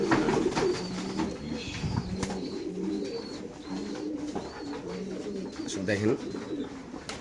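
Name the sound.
BRPFC racer pigeons cooing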